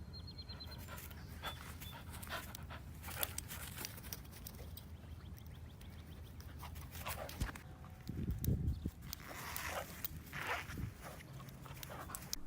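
A two-legged dog pants steadily and close by, with faint shuffling footsteps and rustling in between.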